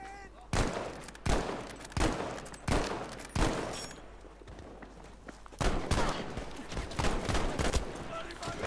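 Loud, close bursts of gunfire from a gun in Battlefield V come in repeated volleys, spaced at first and then denser and overlapping toward the end.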